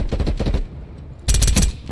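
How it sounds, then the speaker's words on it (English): A sentry gun in Call of Duty Black Ops Cold War fires two loud, close bursts of rapid automatic shots with a brief gap between them. "Ah, sentry gun! Damn it, sentry gun!"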